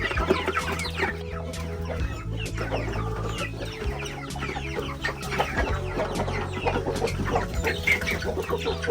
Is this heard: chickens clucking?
yes